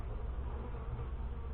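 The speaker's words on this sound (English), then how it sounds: "There's so many bees in there, it isn't funny." Dense, steady buzzing of many honey bees inside a hive from close range, a continuous droning hum with no pauses.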